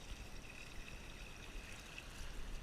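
Water and gravel poured into a gold classifier sitting over a banjo pan on a beach at night, a steady broadband wash and trickle with a faint hiss, continuous and close for the whole stretch.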